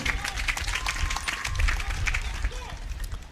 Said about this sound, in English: A round of applause again for them.